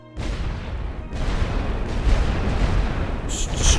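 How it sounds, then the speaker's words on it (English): Artillery shells exploding in the World War One game Great War Western Front, a dense continuous rumble of booms and blasts rolling close together, loud and low, with brighter crackling bursts near the end. "And even more shells coming down."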